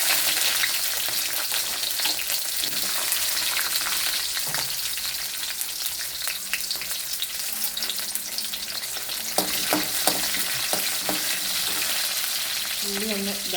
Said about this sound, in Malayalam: ഉള്ളി ഒന്ന് ഇതാവട്ടെ, വാടിയൊക്കെ.